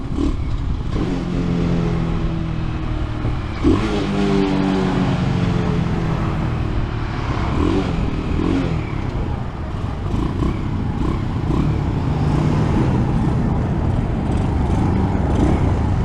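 A nitro RC car, an RPS Racer 140 fitted with a Nibbi PE24 engine, revs steadily and loudly with rising and falling engine pitch, running continuously and close by for the whole stretch with no talking.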